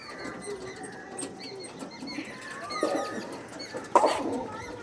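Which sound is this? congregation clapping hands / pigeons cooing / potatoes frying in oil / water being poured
pigeons cooing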